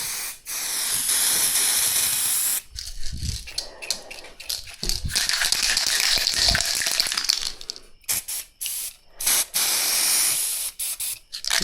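Automotive paint sprays from an aerosol can in long hissing bursts broken by brief pauses and short taps, close and loud, with a person occasionally talking between passes.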